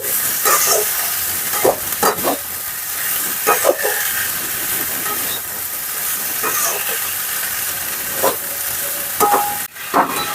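Drumstick flowers (sajne phool) frying in a pan and being stirred, a steady hissing sizzle with intermittent scraping strokes of a spatula, close and fairly loud throughout, no voices.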